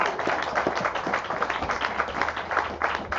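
An audience fills a room with dense, continuous clapping at a launch event and social innovation challenge. The applause stays steady and fairly loud for a few seconds, with no clear voices over it.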